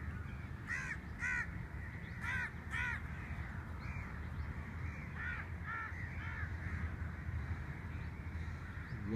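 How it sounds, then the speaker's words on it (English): Crows caw in short clustered bursts from a bird colony in a mangrove forest near Karachi, over a constant low rumble of wind or water. "It's like a small island, and all the birds lays egg and gather together."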